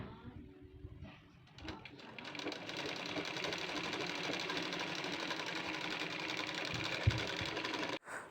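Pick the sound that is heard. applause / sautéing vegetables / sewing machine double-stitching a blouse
sewing machine double-stitching a blouse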